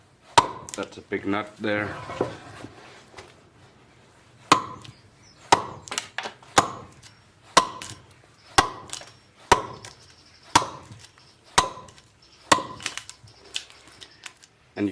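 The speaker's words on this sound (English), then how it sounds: "So at the end I'll chop this way and the other way, like this." Sharp rhythmic chops of a tool into wood while hollowing the inside of a wooden bowl, about a dozen evenly spaced close strikes, with a brief spoken remark early on.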